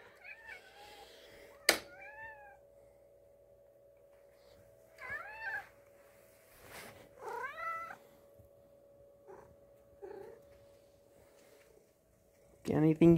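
A cat meows several times at moderate distance, with a few separate calls spread out over a quiet indoor background and a louder bump near the end.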